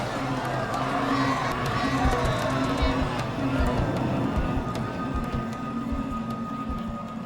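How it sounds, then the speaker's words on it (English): Crowd of thousands of terrified people fleeing in chaos during the Bhopal tragedy: a loud, continuous roar of running feet, shouting and babble with no break. "The police chief walks into the chaos as thousands of terrified people flee."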